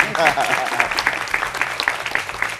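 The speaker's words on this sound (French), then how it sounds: "Voilà, on peut applaudir." A short burst of audience clapping at a French-speaking ceremony after congratulations from a ministry, dense and close, heard over a voice speaking.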